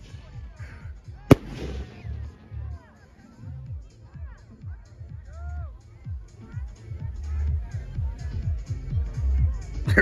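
Fireworks rockets at a July 3rd show: one sharp, loud bang early on, then fainter scattered pops as several people chat and call out throughout.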